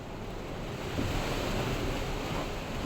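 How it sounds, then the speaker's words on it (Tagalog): Strong storm wind roars steadily and loudly, a dense rushing noise with no pause and no talking. "Grabe kusog sa hangin"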